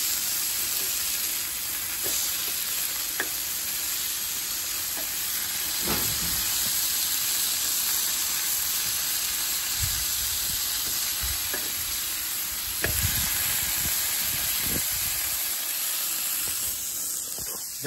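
Flank steak sizzling in a pan for carne asada, a steady close frying hiss with occasional soft thumps and pops from handling the meat.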